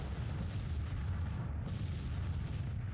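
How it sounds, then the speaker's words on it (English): Artillery booms from a Civil War artillery duel in Grand Tactician fade into a steady low rumble of distant cannon fire and battle noise, continuous and fairly quiet throughout. "So we are losing this artillery duel pretty badly."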